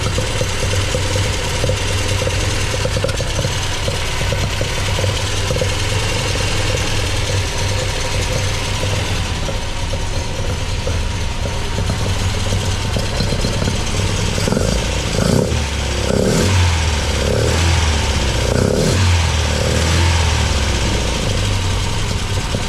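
A freshly rebuilt MGB engine with 45DCOE carburettors idles steadily and close by throughout, still cold and not running quite right, with a low rhythmic chug and some brief clattering noises near the end.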